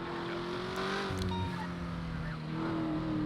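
Acura NSX driven in the video game GTA V, a steady engine drone with tonal whine and slight pitch shifts, continuous and moderately loud throughout.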